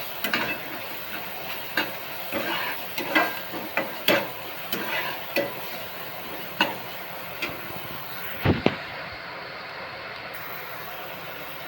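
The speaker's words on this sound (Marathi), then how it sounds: "कांदा भाजत आलाय बघा" Onion and tomato frying in a pan, a soft continuous sizzle broken by a run of sharp stirring scrapes and taps, one louder knock near the end, with no talk.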